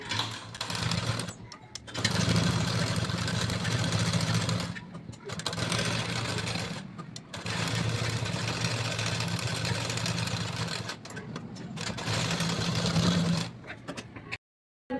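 A sewing machine stitches lining onto a saree blouse, its fast mechanical whirr running in long close bursts separated by brief pauses, ending abruptly near the end.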